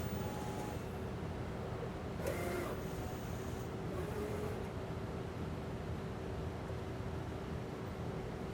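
An M&R i-Image computer-to-screen imaging printer running a nozzle check hums faintly and steadily, with a brief mechanical whir and clatter partway through, and no talking.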